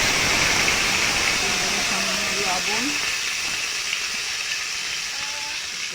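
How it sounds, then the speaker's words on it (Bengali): Potatoes frying in oil in a wok, a steady broadband sizzle and hiss running throughout, with a person speaking briefly over it. "কড়াইয়ের মধ্যে এই আলুগুলো এবার ভেজে নেব।"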